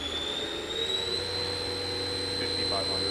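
A Haas VF-OE vertical machining center with a CAT 40 spindle and 20-tool changer runs steadily, giving off a continuous high whine and a low hum with airy noise underneath, without pause.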